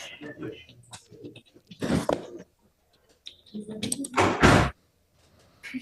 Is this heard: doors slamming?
yes